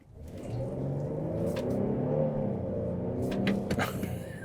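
Kia Telluride SX with a naturally aspirated engine pulling under acceleration, a steady, full in-cabin engine rumble and whir that builds gently and holds for a few seconds, with no talking.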